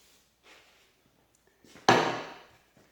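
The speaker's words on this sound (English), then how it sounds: "Just gonna blast it off some brake clean." Brake cleaner sprayed from an aerosol can onto the tailgate pivot of a Case IH 3650 round baler: one loud, close hiss that bursts on and tapers off over about a second, after a few faint clicks and rustles.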